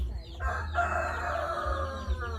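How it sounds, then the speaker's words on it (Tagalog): Chickens crowing and clucking close by, a steady stretch of layered calls with no talking. "ako ang mga manok no kay saba gid kaayo sila"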